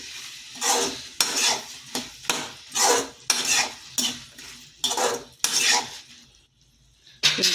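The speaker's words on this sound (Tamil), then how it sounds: "சுண்டைக்காய் போட்டாச்சு ஃப்ரெண்ட்ஸ். நல்லா வணக்கி விட்டுக்கலாம்." A utensil scrapes and stirs turkey berries in a hot pan in repeated rhythmic strokes, with a light sizzle underneath, then a brief pause.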